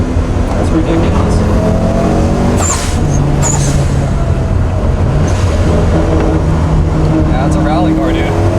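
A 550 hp Mitsubishi Evo 9 rally car running on E85 drives hard with a loud, continuous engine roar and shifting tones, heard close from inside the car under ongoing talk.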